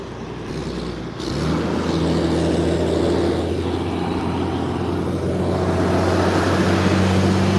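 A steady loud roar of passing vehicles on a nearby road, with a low engine drone swelling as traffic goes by.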